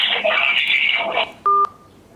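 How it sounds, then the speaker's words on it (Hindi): Telephone line tones sound as a call is cut off: a dense electronic tone burst fades out, then a short, loud pair of steady beeps rings alone near the end. "फ़ोन कट गया, मैंने नहीं काटा, उधर से काट दिया गया आपकी तरफ से।"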